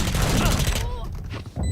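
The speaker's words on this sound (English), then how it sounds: "The run and gun on the Spectre takes out the Reina." Rapid automatic fire from the Spectre submachine gun in the Valorant video game comes in a dense, loud burst that cuts off after under a second, with quieter game sounds and a commentator's voice after it.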